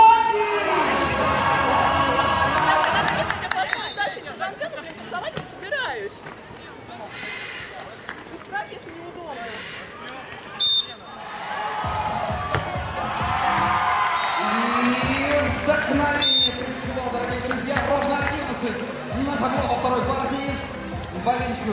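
Fans at a 2014 beach volleyball final in Sochi, Russia, cheer and shout as a crowd. The noise swells and dips under a loud announcer's voice and music, with a few sharp whistles cutting through.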